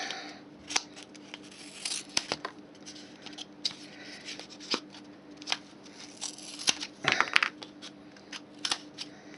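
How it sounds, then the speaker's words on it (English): Scissors snipping through folded paper, a series of short crisp cuts in an irregular rhythm, close and fairly quiet with no talk over them. "take a pair of scissors to it"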